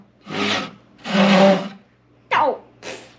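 Japanese pull saw cutting through wood, a few separate rasping strokes with brief gaps between them, close and fairly loud with no talk.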